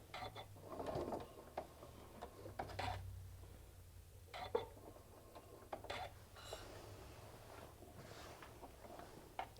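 Sewing machine running a simple straight stitch across a quilted hummingbird panel, a low mechanical whir with quiet ticking clicks and occasional handling of the fabric, faint and steady with no talk.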